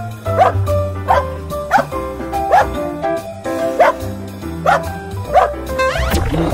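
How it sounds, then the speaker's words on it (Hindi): A dog barks in a steady series of about eight loud, evenly spaced barks close by, with no talking. "ये अब तीसरा डॉगी भी आएगा"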